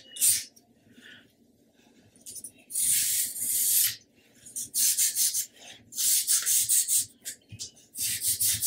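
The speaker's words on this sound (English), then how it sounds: "just give them a light going over, just to make sure that there is nothing there that's going to get in the way of getting your planks to fit together" Wooden hull planks on a 1/80 scale Amati Endeavour model ship get a light sanding in short, soft, scratchy strokes. Each stroke comes in its own burst, with quiet gaps between.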